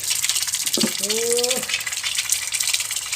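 Eel is rinsed in water, a steady, close gushing and sloshing of running water throughout, with a brief voice breaking in partway.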